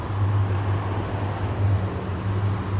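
A steel suspension bridge hums with a deep, steady low tone carried through its cables. It sits under a constant wash of traffic and wind noise, sustained and fairly loud, with no voices.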